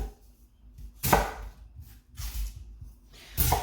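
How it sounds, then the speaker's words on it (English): An onion is chopped for a Carolina Reaper curry with a knife on a board. Three separate bursts of cutting ring out with short quiet gaps between them, close and fairly loud, and no one talks. "is chopping the onion"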